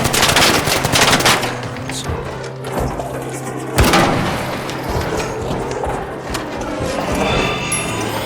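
A robot ARC in the video game Arc Raiders unleashes a kinetic burst attack, heard as a dense, rapid barrage of loud gunfire-like blasts with a sharp bang midway, continuing through the clip.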